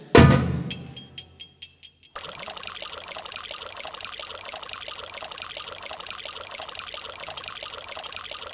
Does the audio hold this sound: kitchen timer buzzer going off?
no